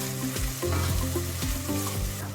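Chopped garlic sizzles loudly in a hot pot while a utensil stirs and scrapes it, with rhythmic knocks against the metal.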